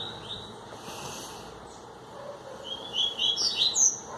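A small bird sings bright, high chirping phrases, louder near the end, over a quiet outdoor background.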